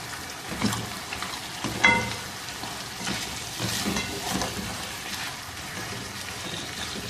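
Potato karahi with sliced green chillies, garam masala and chopped coriander sizzles in a pan while being stirred, a close, steady frying crackle broken by scraping stir strokes and small clinks.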